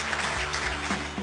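Applause for a chef in a restaurant dining room, a broad, steady wash of many hands clapping at moderate distance with faint room hum beneath, no voices distinct.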